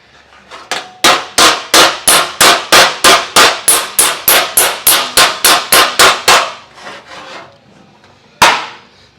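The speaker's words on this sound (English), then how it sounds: "Just using regular old hammer and a dolly for this part." Steel body hammer and dolly pound 1932 Ford dash metal in a rapid run of about twenty loud, close ringing blows, then a pause and one final strike.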